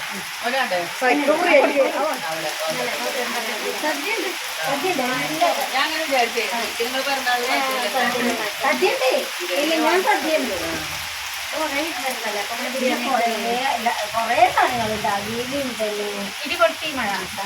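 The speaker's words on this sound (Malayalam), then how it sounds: "നല്ല മഴ" Heavy rain pours down steadily, a dense, even hiss that never lets up, with people chatting intermittently underneath it.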